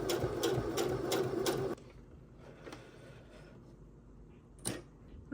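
A sewing machine runs a straight stitch across a fabric keychain in a quick, rapid whirring burst of needle strokes, then stops, leaving a quiet room with one small click.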